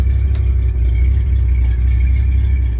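A 1966 Chevy C10 pickup with a loud new exhaust sits idling, giving a steady, heavy low rumble close by and alone, with no talk over it.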